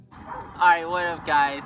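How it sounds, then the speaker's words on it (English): A pet dog barks and yips excitedly in short bursts close by, overlapping a voice greeting viewers during a skateboarding session. "My dog is going wild because I'm skateboarding."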